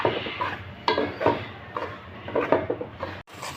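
Semolina roasts in ghee for a sweet halwa while a spoon stirs it around the pan, giving continuous close scraping and soft clatter against the metal with no talking.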